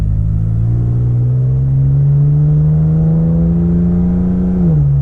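Toyota Tacoma pickup accelerating from a stop in sport mode, its automatic transmission holding a steadily rising engine note before a clear upshift drops the pitch near the end; loud, close drone with no talking.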